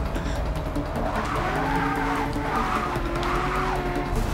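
Shelby GT350R sliding sideways at the Nurburgring in Forza Motorsport 6, its tires squealing and skidding continuously over a steady, loud engine drone that rises and falls as the car drifts.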